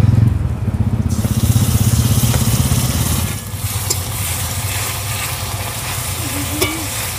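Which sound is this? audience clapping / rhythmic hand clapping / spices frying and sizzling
spices frying and sizzling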